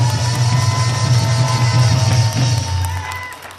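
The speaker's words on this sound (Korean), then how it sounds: "김문수에게 여러분 힘찬 응원의 박수 한번 해주시기 바랍니다." A crowd at a political rally claps and cheers steadily, a dense wash of applause with scattered shouts, fading slightly toward the end.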